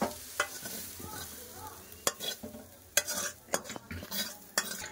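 Potatoes and leafy greens fry in a pan with a soft, continuous sizzle. Loud, sharp scraping strokes of a spatula stirring against the pan repeat every second or so, close up and with no voices.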